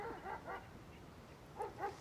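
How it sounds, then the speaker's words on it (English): A dog barks in two faint paired bursts, a quick double bark, a pause, then another double bark, sounding distant and thin with no talk. "What is she barking at?"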